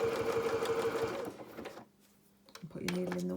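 A sewing machine stitches a wide triple zigzag on felt for a 3D flower. The close, loud, rapid needle chatter runs for over a second, slows and stops, then restarts after a short pause.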